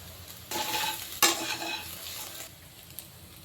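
Soya chunks fry in a pan over a medium flame, with a stirring pass that brings a louder burst of sizzling and scraping near the middle, then a steady, moderate crackle that fades slightly toward the end.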